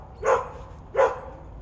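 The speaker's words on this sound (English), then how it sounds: "Wife got home, dogs were barking." Two sharp dog barks, about a second apart, fairly close with quiet in between.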